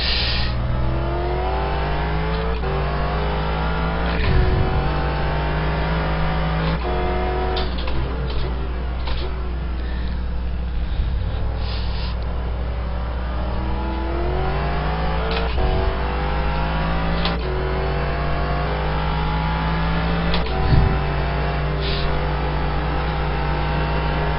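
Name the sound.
race car engine revving high in iRacing video game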